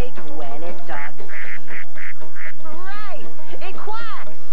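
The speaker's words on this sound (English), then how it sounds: "It quacks! That's the sound that a ducky makes when it talks." A cartoon duck quacks in a series of short nasal calls, some clipped and some swooping, amid lively animated-show audio with voices present.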